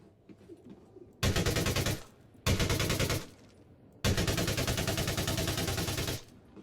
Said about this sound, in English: See the bullets bouncing off this thing?